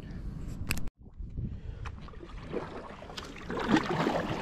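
Kayak paddling on open water: soft splashes and dips of the paddle come in irregular strokes over light wind and water noise, fairly close, with no clear speech.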